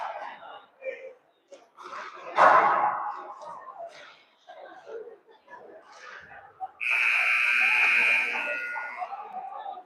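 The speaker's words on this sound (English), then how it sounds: "All right, that's the buzzer to get underway." A long, loud electronic game buzzer blares for several seconds after scattered crowd noise and voices at a high school game in a gym.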